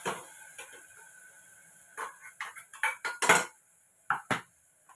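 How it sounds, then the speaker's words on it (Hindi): Ground tomato paste from a mixer goes into a cooking pan for a village-style potato-tomato curry. A series of metallic clinks and scrapes sounds as it is scraped and tapped in, irregular and close, between quiet pauses. "ये मैं मिक्सी में जो टमाटर पीस के रखा था वो मैं डाल रही हूँ इसमें"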